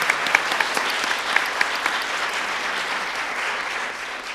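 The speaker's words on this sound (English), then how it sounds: "go ahead and clap for that" Audience applause at a panel on music video as Black art, a full, sustained clatter of many hands with a few crisp individual claps, fading gently near the end.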